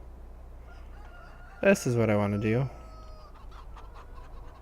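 A chicken near a coop in Farming Simulator 19 gives a short, loud, drawn-out crow-like cluck, with someone speaking briefly over a quiet background.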